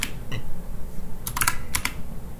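Typing on a computer keyboard while entering commands in a Linux terminal: a few scattered clicks early, then a quick cluster of sharp keystrokes, heard close over a steady low background hum.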